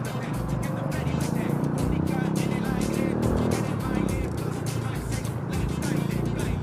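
A motor vehicle, probably a motorcycle with a drive belt, passes close by with a loud steady engine roar and tire noise lasting throughout, alongside heavy traffic ambience.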